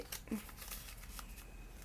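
Paper banknotes handled and counted into budget envelopes, with a quick riffling flick near the start, then soft rustling close by.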